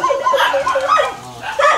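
A dog guarding her puppies at a piggery yips and whimpers in short, high, repeated cries, fairly close, with a person's voice mixed in.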